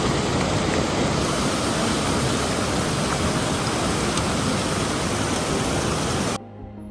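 A cold glacial stream at a river crossing on the Hampta Pass trek rushes loudly and steadily, a dense close-up roar of water that cuts off abruptly near the end.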